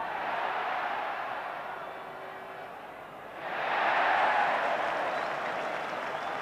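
A rugby crowd at a 1972 Wales v Scotland international roars in a broad, sustained cheer that dips briefly and then swells louder again, filling the whole stretch.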